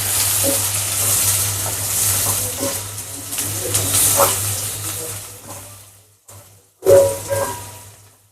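Onions frying in mustard oil in a wok as they're stirred, a loud continuous sizzle with scraping that fades out near the end, then a brief sharp burst of clatter and hiss.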